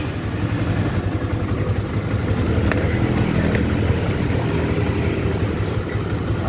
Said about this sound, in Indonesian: Nah, motor udah nyala.